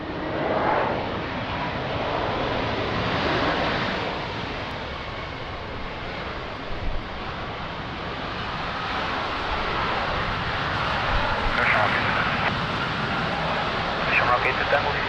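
An airliner lands at Lisbon Airport in strong wind, a broad steady engine roar that stays loud throughout, with radio voices talking over it.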